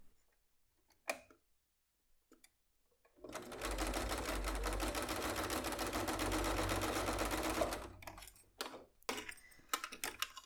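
A sewing machine runs in one steady burst of about four seconds, stitching the strap of a bag with a built-in zipper. It starts after a few faint handling taps and stops abruptly, followed by clicks and rustles.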